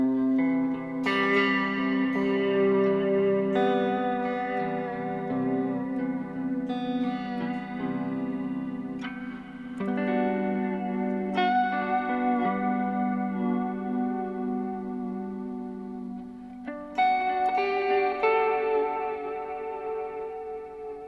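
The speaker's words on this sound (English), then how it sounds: "Here's what the generation loss sounds like." A sustained guitar-style tone runs through a Chase Bliss Generation Loss pedal paired with reverb, chords swelling and decaying with a wobbly, degraded tape-like character and lingering reverb tails, played alone without talk.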